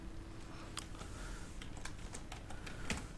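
Keys tapped on a computer keyboard while entering a prepaid cardholder's name, several quiet scattered clicks at an irregular pace against a low steady room hum, with no talk.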